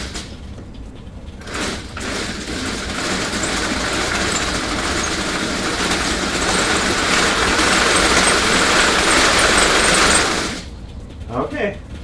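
A large RC tank's track runs at low throttle, a steady dense clattering whir lasting about nine seconds before stopping, with brief talk at the end.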